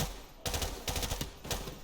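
Automatic weapon fire in the first-person shooter Call of Duty: Modern Warfare Remastered, with three or four close, loud bursts of rapid shots and no talk.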